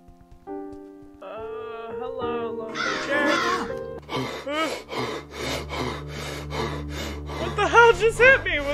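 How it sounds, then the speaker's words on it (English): A crow in the horror game Sinistria gives a series of harsh, rhythmic caws that build up over eerie in-game sounds, fairly close and loud. "Was that a crow?"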